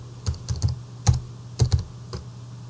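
Computer keyboard typing a name for a new orthographic view in Plant 3D design software: a handful of loud, close keystrokes in uneven short bursts with brief pauses between them.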